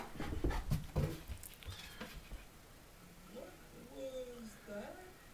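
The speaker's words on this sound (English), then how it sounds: "Is that good fun, Scrap? Talking dog." A Schnoodle puppy pants and makes small whimpering vocal noises up close, with a person talking over the first half before the dog's higher-pitched sounds come through more clearly.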